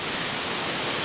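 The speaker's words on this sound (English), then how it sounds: "waterfalls is one of those things that it doesn't matter how many you see, they're always incredible" A waterfall in Mae Hong Son, Thailand, pours with a dense, constant roaring rush of falling water, loud and unbroken from start to finish, with no voices.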